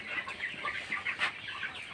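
Broiler chickens about three weeks old cluck and chirp steadily inside a poultry shed at evening, a continuous busy chorus of many birds close by with no voices.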